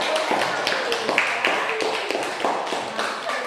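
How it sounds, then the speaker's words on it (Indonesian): A classroom group claps for the first student team, a quick, fairly even patter of hands that carries on at moderate loudness, with no talk over it. "Kasih tepuk tangan yang meriah."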